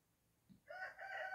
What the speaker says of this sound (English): This rooster is like not stopping.